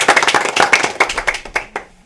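Television studio audience clapping at a host's request, a close burst of brisk, dense claps that thins out into a few scattered final claps after about two seconds.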